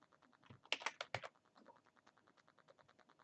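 Fast typing on a computer keyboard, a quiet run of soft clicks with a brief denser, louder burst of keystrokes near the start before it settles back into light, steady tapping.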